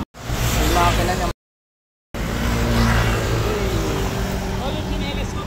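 A Ford GT carbon series sports car engine revs loudly up close, cut off briefly by a short gap of silence before the engine noise returns and settles, with people talking over it.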